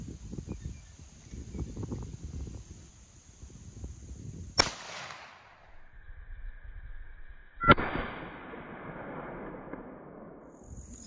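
Two sharp, loud rifle shots from a Browning A-bolt in .30-06, fired outdoors a few seconds apart, each leaving a ringing decay; faint talk and rustling sit underneath.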